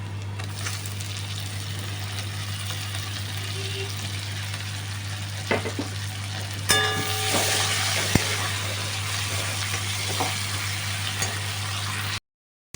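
Tomatoes fry with onions and masala in a pan for a spicy prawn curry, a steady soft sizzle with occasional clinks of a stirring spoon over a constant low hum.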